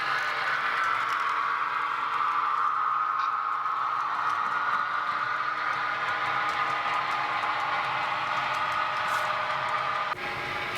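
A steady, soft rolling clatter of an HO scale model mixed freight train running along track on a double-deck layout, continuous and fairly quiet with a faint whirring hum, no voices.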